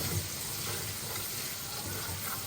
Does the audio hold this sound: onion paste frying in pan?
yes